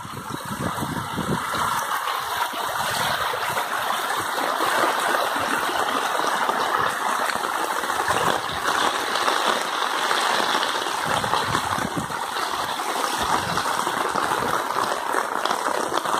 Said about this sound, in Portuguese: A água tá forte aqui, olha.